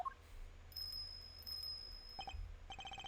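A small bell on a dog's neck in the game Ace Attorney Investigations 2 tinkles in a few bright, light chimes. Brief rings come at the start and in the middle, and a quick run of jingles follows near the end.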